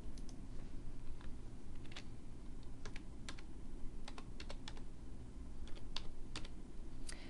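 Keys tapped on a computer keyboard to enter a user ID into a course registration web page, a quick irregular run of light clicks over a steady low room hum.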